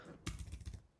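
A quick burst of keystrokes on a computer keyboard, a handful of soft, close clicks in under a second while typing CSS code.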